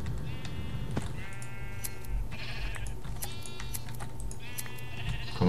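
Sheep in a modded Minecraft-style video game bleat repeatedly, several short tonal bleats spaced across the clip over a steady background of game ambience.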